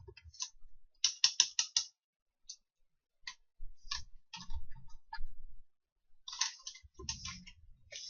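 A computer keyboard is typed on at close range in quick clustered bursts of crisp clicking keystrokes with short pauses between, faint and without talk.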